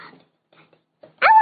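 Children imitate cats in a voicemail, giving one short, high meow-like cry after faint, scattered murmurs and near silence.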